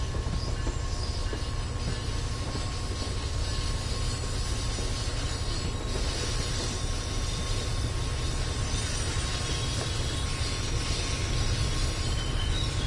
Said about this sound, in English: there goes the other train coming in